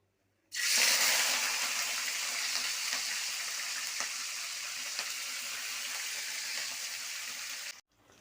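Green chillies dropped into hot oil burst into a loud, close, steady sizzle that starts abruptly and holds evenly for about seven seconds before cutting off.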